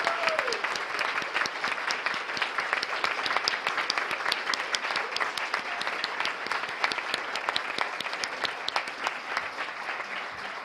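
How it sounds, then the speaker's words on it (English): Sustained applause from a summit audience for a panel of speakers, dense steady clapping filling the room for the whole stretch at an even level, with a faint voice briefly audible near the start. "Please join me in a round of applause for recognizing our panelists today."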